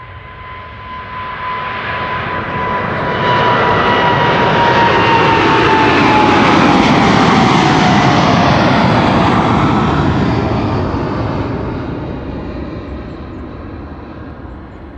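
A KLM jet airliner departs Amsterdam Schiphol Airport, its engine roar swelling from moderate to loud and then slowly fading over about fifteen seconds, with no voices.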